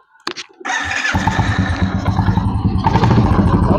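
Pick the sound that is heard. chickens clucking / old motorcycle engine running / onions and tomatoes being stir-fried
old motorcycle engine running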